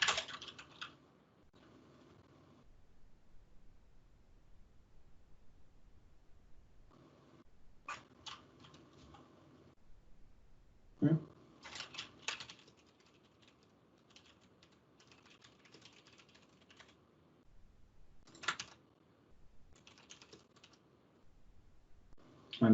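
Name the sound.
typing Java code on a computer keyboard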